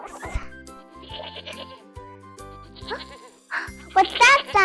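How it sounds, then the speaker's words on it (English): A goat bleats several times in wavering, nasal cries, near and clear, with a light jingling and a voice speaking between the calls. "It sounds like a goat."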